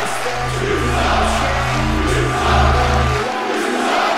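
A wrestling video game crowd at a New York event roars continuously at a loud, steady level, with a low droning tone underneath for most of the stretch.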